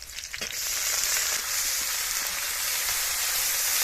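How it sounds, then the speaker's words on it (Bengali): Onion paste frying in mustard oil with bay leaf, dried chilli, whole cumin, chopped garlic and green chilli, a steady bright sizzle close by after a brief quieter start, with a few faint knocks, no voices. "পেঁয়াজটা হালকা একটু ভেজে নিয়েছি"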